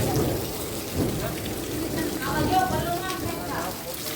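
Heavy rain pours steadily with a low rumble underneath, as of distant thunder; faint voices are mixed in the background.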